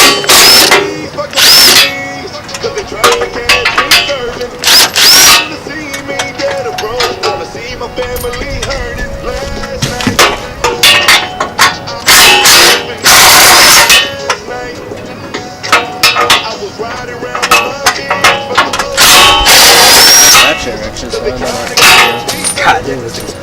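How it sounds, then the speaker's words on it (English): Ratchet turning a 14mm socket to remove the front bracket of a 2015–2017 Mustang GT during a Paxton supercharger install, loud close bursts of rapid clicking with metallic clinks between them. "We are gonna have to take that whole front bracket, and it's using a 14mm socket."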